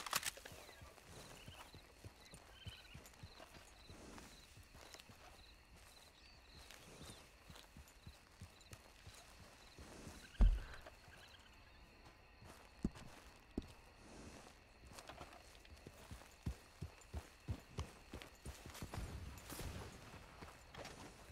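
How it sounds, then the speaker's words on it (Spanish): Horse hooves clip-clop in a roleplay video game, a faint series of hoof knocks over a low background hum, growing more regular and closer toward the end, with one louder thump midway and no speech. "Súbase, súbase en mi caballo."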